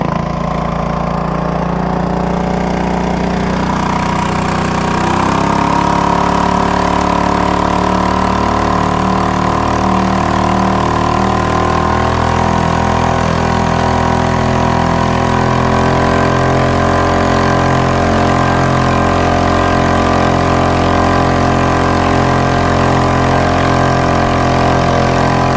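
A Honda 2.3 hp gas outboard motor runs at full throttle on a small boat, a loud, steady close-up engine drone that climbs in pitch after a few seconds and then holds high and even, with no talking.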